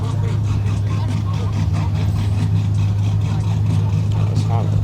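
A car's exhaust rumbles steadily and loudly up close at a cars and coffee meet, a constant low drone with people talking over it.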